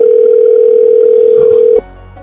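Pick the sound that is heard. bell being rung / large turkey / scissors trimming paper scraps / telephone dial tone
telephone dial tone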